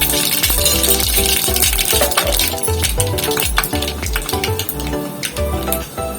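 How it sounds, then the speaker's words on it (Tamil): Mustard and fenugreek seeds with urad dal splutter in hot oil in a pan, a dense crackling stream of pops and clinks, steady, close and loud with no talking. "கடுகு, வெந்தயம் பொரிஞ்சிருச்சு."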